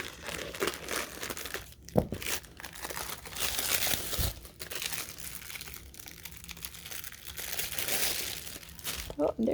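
Plastic seal being cut open on a vacuum-packed pillow, close crinkling and crackling of film with tearing and small crunches, continuing throughout at low volume.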